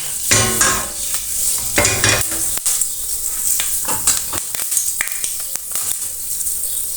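Fenugreek seeds fry in hot oil for a spiced curry and brown while being stirred. Bursts of sizzling alternate with scraping strokes and metallic clicks of a spoon against the pot, close and loud, with no voices.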